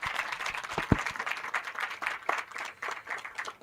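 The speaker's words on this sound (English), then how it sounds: "Clap, clap, clap." Applause at an alumni association emblem unveiling, a crowd clapping in an uneven patter with some louder individual claps standing out, moderate level, no talk.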